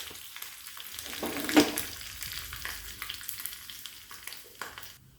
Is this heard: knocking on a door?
no